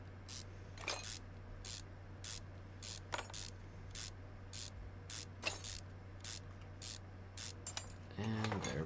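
A hand ratchet in the Car Mechanic video game, working on a junkyard car, a regular series of crisp clicking bursts about once per half second over a low steady hum, fairly close, with no speech.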